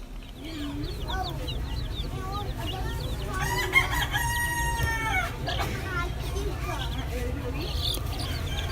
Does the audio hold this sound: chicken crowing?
yes